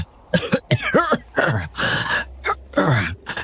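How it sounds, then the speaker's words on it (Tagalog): An elderly woman coughs repeatedly in harsh, raspy bursts, several rough hacks in a row, loud and close with short breathy pauses between them. "Pasensya na kayo sa ubo ko."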